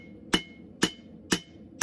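Four sharp metallic hammer blows flatten a hot steel bar at an even, steady pace, each one a bright clang that quickly fades.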